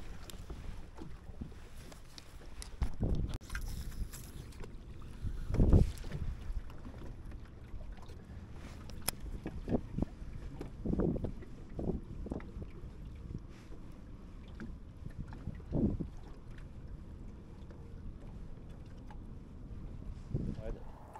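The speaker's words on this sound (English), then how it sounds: "just sort of wanted to get a bit of protection from this wind" Wind gusting over open water on Lake Mulwala during winter fishing from a boat, a steady low rumble of wind noise with louder buffeting bursts across the microphone and faint talk at times.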